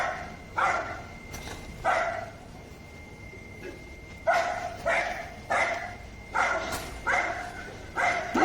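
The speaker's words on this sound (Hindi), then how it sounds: "कुत्ते कैसे भौंके पड़ रहे हैं" Several dogs near a residential plot bark in short, repeated bursts of two or three, moderately close, with brief quiet gaps between volleys.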